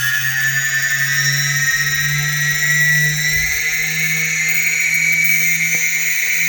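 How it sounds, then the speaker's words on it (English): DJI Phantom 2 Vision drone motors, a rebuilt unit with new parts and upgrades, whine steadily and loudly at full throttle, a sustained high-pitched multi-tone hum with a low drone beneath, holding constant without speech. "let's see if I can power up these mean motors"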